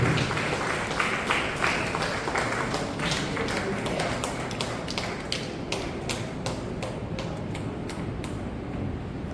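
An Onam celebration audience at a cultural centre welcomes Mahabali with steady, close applause. Sharp individual claps stand out over a continuous wash of hand-clapping that lasts throughout.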